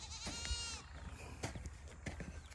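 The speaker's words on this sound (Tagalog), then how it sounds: "tingnan natin yung mga kambing" Goats bleating on a farm, a couple of wavering nasal cries with other animal calls in the background, fairly faint and distant-sounding.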